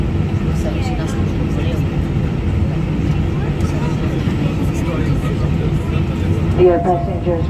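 Air Malta airliner taking off, heard from inside the economy cabin: a steady, loud engine roar fills the whole stretch, with faint voices and brief cabin noises over it.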